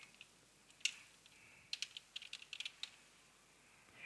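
Computer keyboard typing, a short burst of quiet clicks then a brisk run of keystrokes, faint and close, with no talk.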